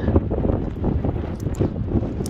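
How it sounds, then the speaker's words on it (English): Steady, blustery wind buffeting the microphone outdoors, a low rumbling roar with gusts rising and falling throughout, no voices. "It's windy, so it's going to be noisy."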